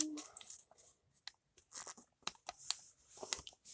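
Paper being folded and creased by hand for a paper blade craft: a string of short crinkling, tearing-like rustles and sharp crisp bursts, close and fairly quiet, with no voices.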